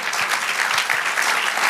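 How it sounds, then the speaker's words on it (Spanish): A congregation at a Spanish-language church service claps together in steady, dense applause. The clapping fills the whole moment at close range. "Dale aplauso al Señor."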